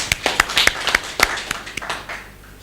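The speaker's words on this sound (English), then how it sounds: "I think we should clap for him" At a political gathering, a few hands clap in a sparse, uneven run of sharp, close claps that thins out and fades after about two seconds.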